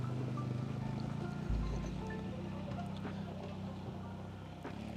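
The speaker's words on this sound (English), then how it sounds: "The ATV is trying to find a way back onto shore as this is a steep bank." ATV engine straining to climb a steep icy bank back onto a frozen lake shore, a steady low droning rumble throughout with a brief heavier surge partway through, fairly close.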